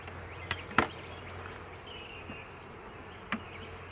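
Honey bees in a thinly populated hive hum faintly during an inspection, a soft continuous buzz broken by a few sharp clicks and taps.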